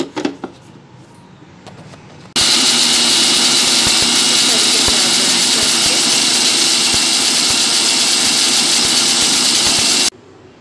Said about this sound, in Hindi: अब हम इसे बंद करके ग्राइंड कर लेंगे अच्छे से।